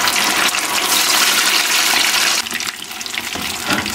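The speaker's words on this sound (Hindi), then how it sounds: "ये मीडियम आंच पे आपने इसको फ्राई करना है।" Fish frying in hot oil over medium heat gives a loud, dense, continuous sizzle and crackle that holds throughout, easing slightly partway through.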